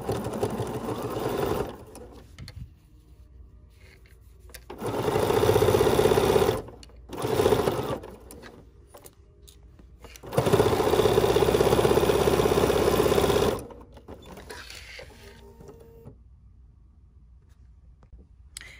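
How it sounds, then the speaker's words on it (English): A sewing machine stitching fabric for a quilted butterfly basket block runs in two long, loud bursts with a brief stop between them, then fades to quieter handling sounds, with no talking. "And now I'm going to stitch."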